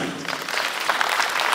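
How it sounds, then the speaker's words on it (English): Audience applause at an investment expo in Abuja, a brief burst of steady clapping from a crowd, fairly close and even throughout. "let's just give them a round of applause for starting it"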